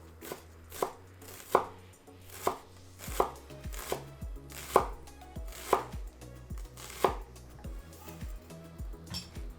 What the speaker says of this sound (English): First, we'll mince some shallot and garlic.